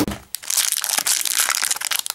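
A Shopkins Fashion Spree blind bag being torn open along its tear strip, giving close, continuous crinkling and crunching of foil-like plastic packaging with sharp rips for about two seconds.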